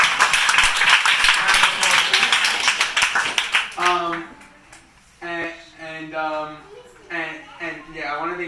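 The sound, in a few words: round of applause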